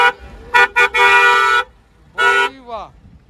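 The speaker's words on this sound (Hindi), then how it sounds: "एक बार हॉर्न बजाना इसका" Several loud modified horns on a Mahindra Thar blast in short bursts then a longer blare, ending with a musical, descending horn tone.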